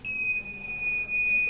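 A password door lock buzzer sounds after a wrong code is entered, giving a steady, piercing high-pitched tone that holds unbroken at close range.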